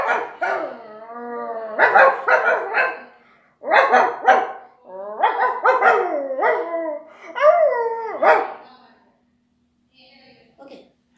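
Human voice imitating an angry dog, giving a series of harsh, throaty barks and growls in bursts, some stretched into howl-like wails, up close, then falling silent.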